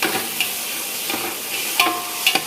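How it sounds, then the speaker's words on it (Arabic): Onions frying in a pot with garlic and spices, a steady close sizzle broken by a few soft scrapes as the mixture is stirred, with no talking. "تقط البصل ويا الثوم والبهارات وتحمس يا قلبي هكذا تحمس البصل"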